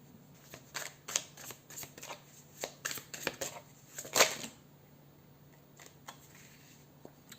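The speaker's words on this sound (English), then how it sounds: "I'm gonna shuffle and see what comes up for you and your soulmate." A deck of tarot cards is shuffled up close, with quiet, irregular riffles and taps that come in short bursts, one sharper snap near the middle, and no voices.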